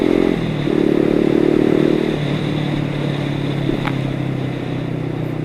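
A Yamaha M-Slaz motorcycle is ridden on the road, its engine droning loudly and steadily up close with small pitch changes as it revs and shifts, plus occasional clatter.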